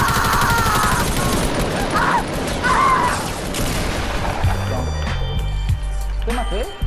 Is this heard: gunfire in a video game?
yes